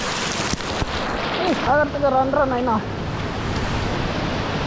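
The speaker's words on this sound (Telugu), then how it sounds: "వచ్చేసాం వాటర్ ఫాల్స్ చూడండి ఎంత పైన నుంచి అయితే పడుతున్నాయి వాటర్" Penchulakona waterfall pours steadily from a height as a broad, constant rush of falling water, with a person speaking briefly over it.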